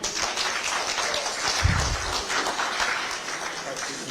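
Audience and media at a Kenyan workers' rally in Kisii break into clapping, a dense, steady patter of hands in an outdoor crowd, with a voice speaking over it.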